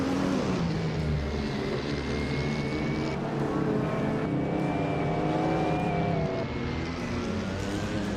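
A 1993 McLaren F1 in a racing game launches hard off the line, its engine roaring loud and steady with rising revs and gear changes, other cars droning close behind.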